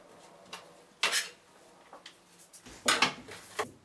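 Knife finely chopping onion on a board for homemade meatballs: a few separate sharp knocks and scrapes, close and fairly quiet, with pauses between strokes and no talking.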